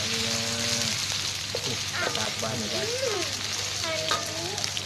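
Fresh turmeric fries and is stirred in a pan, giving a steady, close sizzle with stirring scrapes, while a faint voice or tonal chirps drift in the background.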